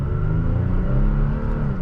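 A Toyota Tacoma TRD Sport pickup eases off the line from a stop, a low engine rumble building gently inside the cab at a steady, moderate level.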